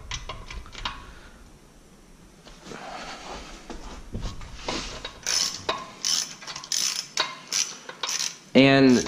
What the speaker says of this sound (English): what I'm going to do is take off these 4 bolts and pull the snout off